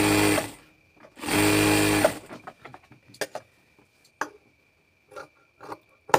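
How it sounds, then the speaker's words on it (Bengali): Sewing machine stitching salwar fabric: two loud, close bursts of rapid mechanical running, each lasting about a second, followed by quieter clicks and handling of cloth and parts. "একটা সেলাই হয়ে গেলে ওপেন করে বাঁ পিসটা দিয়ে আরেকটা সেলাই এক চাপ দূরে দিয়ে দিব।"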